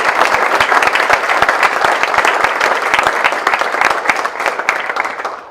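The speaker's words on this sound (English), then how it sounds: "Let's give them a round of applause." An audience at a charity campaign celebration gives a steady round of applause, dense and loud throughout, with a few individual claps standing out up close.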